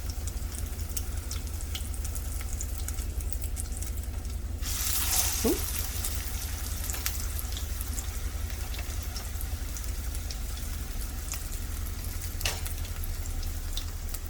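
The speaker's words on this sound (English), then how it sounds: "It should sizzle right when you stick them in." Potato cakes sizzle steadily in hot grease in a pan, a continuous dense frying hiss throughout with a brief louder burst partway as something is moved.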